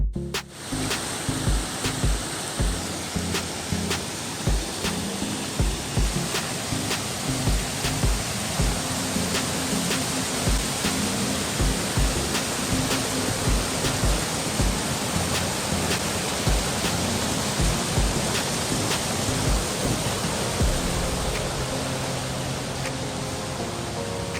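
A waterfall cascade with persistent foam roars steadily and loudly without a break, a dense, unbroken rush of falling and churning water filling the whole scene.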